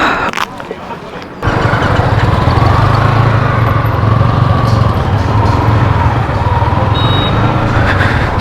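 Motorcycles on a road trip, including a BMW 310GS, Yamaha R15 V3, Royal Enfield Thunderbird 350 and MT-15, fire up after a brief quiet moment. A loud steady engine drone then carries on as the bikes pull away onto the road.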